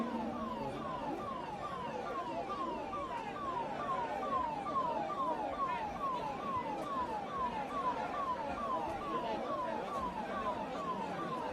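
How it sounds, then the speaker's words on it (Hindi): An ambulance siren wails continuously as it moves through a crowd, a steady rising-and-falling electronic tone held at a moderate level over a murmur of background noise. "भैया वो एम्बुलेंस को निकलने दीजिए।"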